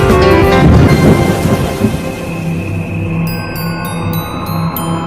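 Heavy rain pours steadily while a loud roll of thunder rumbles near the start and fades, and bright ringing tones enter later.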